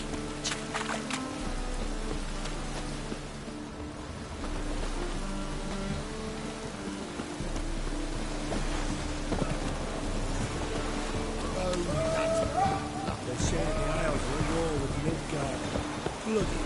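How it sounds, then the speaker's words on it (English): Steady rain patters down in The Witcher video game, a broad continuous hiss lasting throughout, mixed with low tonal background sound. "And it's raining again."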